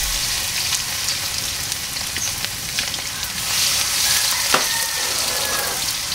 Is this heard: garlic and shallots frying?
yes